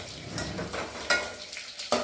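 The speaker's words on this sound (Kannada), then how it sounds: "ಇಲ್ಲೇ ಕುದಿಸುತ್ತಿದ್ದಾಳೆ" A pot of greens curry made with lentils and tamarind water boils while being stirred, giving a soft bubbling sizzle broken by a few sharp scraping strokes from a spoon against the pot.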